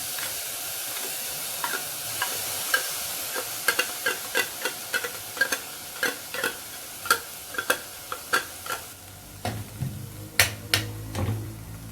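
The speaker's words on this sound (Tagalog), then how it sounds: "Now in our pan, we are now going to cook our tuna in can. You can just cook it in low fire." Canned tuna cooks in a pan over low heat, a soft background sizzle broken by a long series of sharp, rhythmic scraping and tapping strokes of stirring, with a louder hiss rising near the end.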